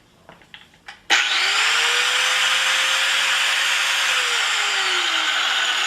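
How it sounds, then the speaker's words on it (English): An angle grinder starts up abruptly after a few light knocks, then runs loud and steady with a bright, dense whine that holds level for several seconds before the motor pitch slowly dips. "So always wear your safety equipment before using the angle grinder."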